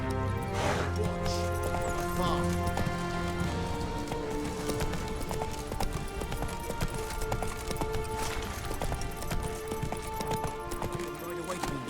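Roach, the horse in the video game The Witcher 3, gallops with a continuous rhythmic clip-clop of hooves under game music, with a brief snort or whinny and a voice speaking.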